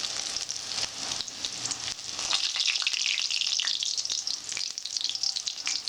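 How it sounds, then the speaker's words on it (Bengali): Prawn cutlets, Bengali chingri macher chop, crackle and sizzle steadily in hot oil in a home kitchen, a close, dense hiss with scattered pops running throughout. "এবার এটা ভালো করে ভাজতে হবে"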